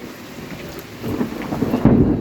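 A low thunder rumble swells and grows louder over steady rainfall in a rural village, ending in a heavier boom.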